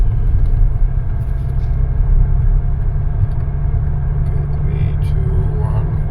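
A 2018 Volvo XC60 engine runs steadily in a continuous low rumble, close and loud, with a constant mid-frequency whir over the deep drone.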